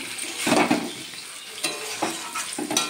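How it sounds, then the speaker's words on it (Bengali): Oil sizzles and spatters in bursts as thin eggplant slices fry in a pan, with scraping and stirring noises in between. "বেগুনটা ভেজে নিচ্ছি, পাতলা পাতলা করে কেটে নিয়েছি।"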